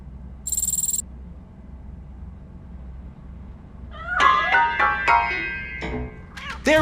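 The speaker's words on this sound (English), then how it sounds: "That cat must be hiding inside." A cat meows in a Robocop video game, several rising and falling meows after a brief high-pitched chime, over a low steady background hum.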